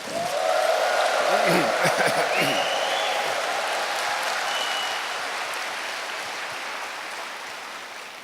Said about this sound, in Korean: 다시 한번 우레와 같은 큰 박수 부탁